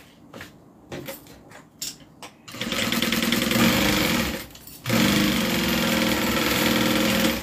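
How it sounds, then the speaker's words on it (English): A sewing machine stay stitches across the bottom of a bag, a few short stop-start bursts at first, then two long steady runs of fast mechanical whirring with a brief pause between, close and loud. "I'm going to stay stitch the bottom"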